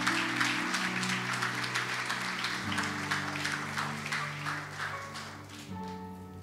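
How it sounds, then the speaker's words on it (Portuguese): A church congregation claps together in steady, dense applause that fills the room, with sustained musical tones humming underneath and the clapping gradually easing toward the end. "A igreja vai aplaudir a Jesus"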